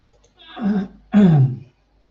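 Two rough, throaty throat clearings close to the mic, the second louder and longer.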